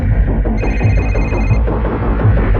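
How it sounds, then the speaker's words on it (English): A phone rings with a steady electronic tone for about a second, over loud, crowded background noise. "all of a sudden this mobile phone starts ringing"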